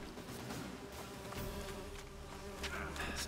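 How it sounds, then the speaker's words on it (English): In The Witcher 3 video game, a swarm of bees gives off a continuous droning buzz, layered with steady game ambience and a few brief sharper sounds, and no one speaks. "Okay, now we got bees."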